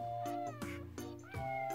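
Several clear, close cat meows in quick succession, a talkative housecat vocalizing loudly with a slightly drawn-out, caterwaul-like tone and no talk over it.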